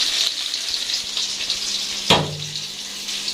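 Potatoes frying in oil in a home kitchen: a steady, bright sizzle with a sharp crackling spurt partway through as something hits the pan, close and loud.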